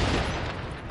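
Rapid bursts of gunfire in The Division during a Times Square legendary mission, a loud, dense volley that fills the whole second and tapers slightly toward the end.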